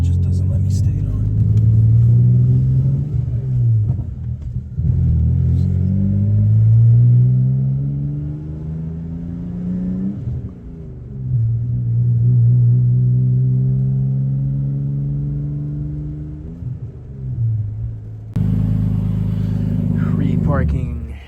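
A BMW E46 330i engine idling and revving while being reparked, a steady low drone that rises and falls in pitch through several swells, close and loud, with an abrupt cut near the end.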